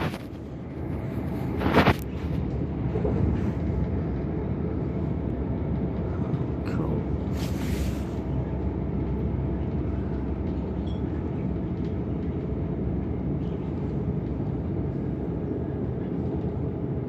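A train rumbles past at night near Dagenham Dock station on a London stopping service, a steady low roar with wheel and rail noise filling the whole stretch, a few sharper clanks early on.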